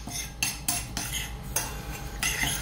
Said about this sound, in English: All we're gonna do is kind of mix this together so we've got a nice seasoned flour.